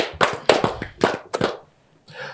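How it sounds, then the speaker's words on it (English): A few hands clap in short uneven bursts, close and loud, at the opening of a football talk show, followed by a brief whoop. "Clap it up, baby."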